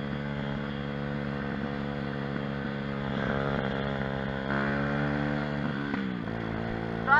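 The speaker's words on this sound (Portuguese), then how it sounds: "a motinha tá cortando" A mini moto pit bike engine drones at a fairly steady pitch, rises slightly, then sags and stumbles near the end as it starts to cut out, heard close and alone.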